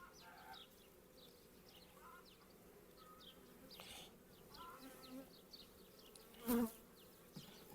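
Honey bees droning around a hive at a countryside apiary during colony inspection, a faint continuous buzz with individual bees passing near, a brief louder swell near the end and distant bird or fowl calls.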